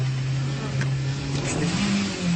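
Car engine held at a steady high rev while the gas pedal stays pressed, a constant drone under faint voices, pitch creeping slightly upward near the end.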